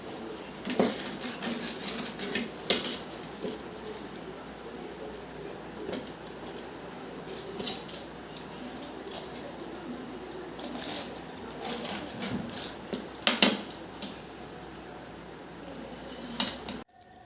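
Knife scraping and clinking against a plate while a grilled cheese sandwich is cut, a steady close rasping with scattered sharper utensil knocks over about seventeen seconds, no talk.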